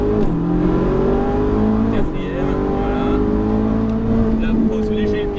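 A Ferrari 458 Italia accelerates hard on a race circuit, its engine note rising steadily through the gears with brief dips at each shift, loud and close from onboard, while a voice speaks over it.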